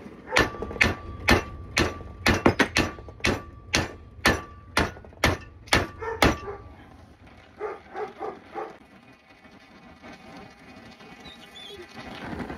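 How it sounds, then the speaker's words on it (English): Hammer forging a Mauser rifle bolt handle: about a dozen sharp, ringing metallic blows struck at an even rhythm close by, then several lighter, quicker taps before the sound fades into low shop noise. "I just gotta finish forging this bolt here."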